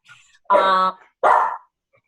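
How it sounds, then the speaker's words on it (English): A dog indoors barks twice, loud and close, each bark sharp and fairly long, with silence before, between and after. "this is my dog, sorry about that"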